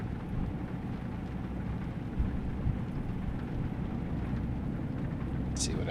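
Steady rain drums outside the cab of a Kenworth W900 in American Truck Simulator while the truck hauls milk, a soft continuous wash with a faint low rumble underneath.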